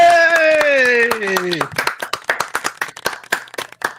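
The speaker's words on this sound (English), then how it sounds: "one more round of applause for our second place finisher, Travis Coulter." Applause breaks out at a live-streamed 2023 MVG Grand Slam tournament for the second-place finisher, a short burst of clapping that trails off into scattered claps while a voice talks over the start.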